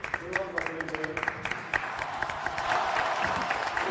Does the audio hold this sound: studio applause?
yes